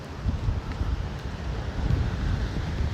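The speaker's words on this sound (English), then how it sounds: "The windy weather warning today." Strong wind buffets the microphone on a seaside pier, a steady low roar with gusty rumbles and faint surf underneath, no voices.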